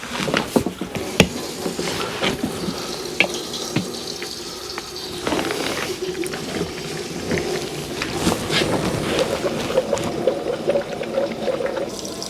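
Fuel pouring and gurgling into the gas tank of a 1963 Chevy C10 truck with a big block 348 engine, a steady liquid rush with clunks and handling knocks, fairly close and without talk.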